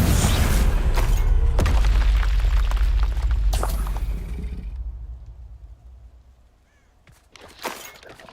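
Bombarda and Confringo blast spells go off in Hogwarts Legacy: a loud, rumbling explosion with shattering debris lasts several seconds, then fades to a quiet tail and a brief later pop.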